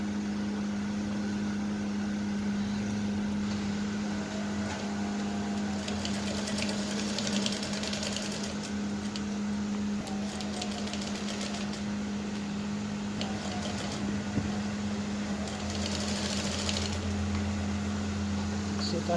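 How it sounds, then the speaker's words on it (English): A sewing machine runs continuously, stitching the lining and main fabric of a one-shoulder peplum blouse, with a steady motor hum and faint rhythmic needle chatter throughout. "I'm going to run a stitch, then sew it up"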